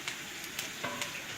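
Onions sizzle in hot ghee for deig chawal, a quiet, brief crackling hiss with a few soft pops and stirring scrapes and no voices.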